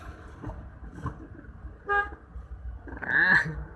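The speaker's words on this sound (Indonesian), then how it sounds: "Ini klakson" A car horn toots briefly near the end, following soft murmuring voices and faint traffic noise, on a night drive in Ambon.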